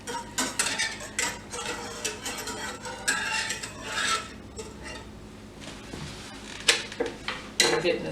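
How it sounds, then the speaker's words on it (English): Spatula stirring pumpkin puree through a warm pumpkin pie cocktail mixture, giving close, irregular scraping and clinking against the vessel with soft rubbing strokes and a few sharper knocks, no talk. "You just want to make sure all your puree is mixed up in there."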